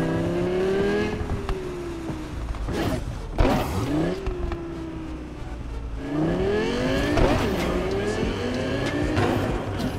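A fast car in Cyberpunk 2077 races with its engine revving hard, the pitch climbing and dropping through several gear changes. Tires squeal and skid in short bursts, close and loud throughout.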